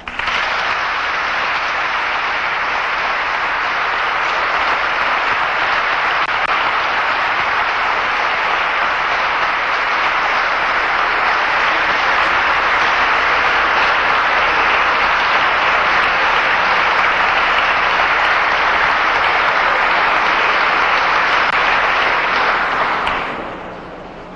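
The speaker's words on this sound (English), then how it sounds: "So I'd like everyone to come together with a round of applause and let's welcome Dr. Yosef Ben Yochanan." An audience gives a sustained round of applause to welcome a speaker at a lecture event, dense steady clapping filling the room for over twenty seconds before fading out.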